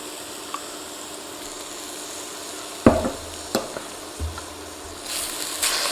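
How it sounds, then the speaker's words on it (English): Ginger and garlic sizzle quietly in a pan, with a few sharp scraping knocks of a utensil as they are stirred and a brief rise in the hiss toward the end. "Kind of give this a little bit of a stir."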